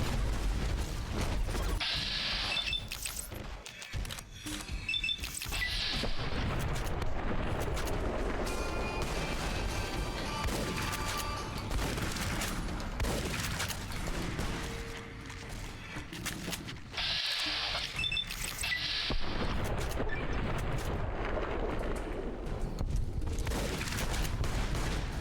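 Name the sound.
hunting shotgun firing in video game Fallout: New Vegas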